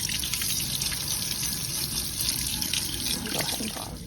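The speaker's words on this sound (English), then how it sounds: "you want to rinse them for at least 5 minutes" Water runs from a tap into a strainer, rinsing seeds. A steady, close hiss and splash continues throughout and eases slightly at the end.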